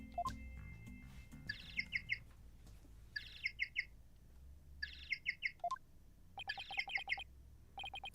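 A phone ringtone from the Ace Attorney: Dual Destinies video game imitates bird chirps, playing repeated bursts of quick high tweeting notes in a regular pattern over a low game background hum.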